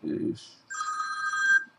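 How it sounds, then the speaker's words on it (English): A telephone rings with a bright electronic trill after a brief spoken word, the ring near and clear in a quiet room. "I got a call."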